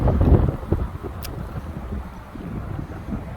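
Gusty wind buffets the microphone with low rumbling bursts, strongest at the start, then settling into softer pulses.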